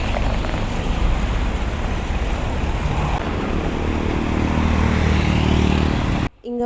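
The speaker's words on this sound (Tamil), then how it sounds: "அந்த லாரி ஃப்ரண்ட் சைடில் நம்ம உட்காரதுனால அந்த இன்ஜின் சவுண்டுக்கு எதுவுமே கேட்கல" Lorry engine droning loudly and steadily from the front cab while riding along on a hitchhike from Bangalore to Coorg, a constant heavy rumble that cuts off abruptly near the end.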